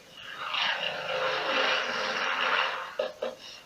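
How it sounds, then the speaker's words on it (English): A Supermarine Spitfire fighter's Rolls-Royce propeller engine roars steadily overhead, a loud broad rumble that swells and holds, then fades with a couple of brief knocks at the end. "The Spitfire, with its Rolls-Royce engine and that glorious sound."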